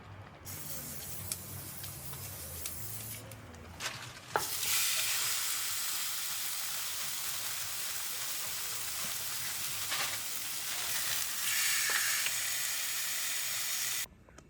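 Ribeye steaks seasoned with salt and pepper sear on a Blackstone 14-inch camp griddle with a loud, steady hissing sizzle close by, after a quieter opening with a low hum and a few soft clicks.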